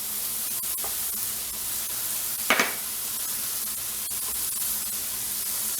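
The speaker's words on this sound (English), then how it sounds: "go ahead and throw a little knob of butter down" A small knob of butter sizzles in a frying pan next to beef burger patties, giving a steady close hiss with one brief, louder crackling burst partway through.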